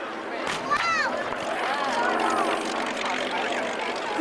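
Hawker Hurricane fighters at a 1997 Biggin Hill airshow scramble, a steady droning propeller engine roar with a rising and falling pitch as the aircraft pass, while someone narrates over it.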